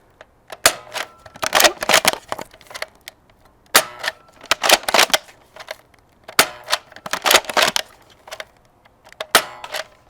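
Sharp snapping shots from an Air Warriors The Walking Dead Andrea's rifle toy blaster fired with the scope removed, sounding as close, loud clusters of quick clicks and cracks with short pauses between bursts.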